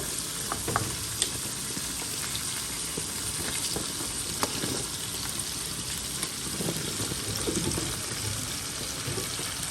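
Pieces of cut okra fry in a hot pan, giving a continuous soft sizzle with scattered light crackles and pops as more pieces drop in, steady and fairly quiet throughout.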